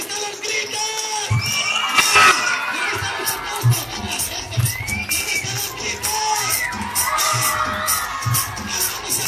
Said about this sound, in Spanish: ¡Venga las palmas! ¿Dónde están los gritos?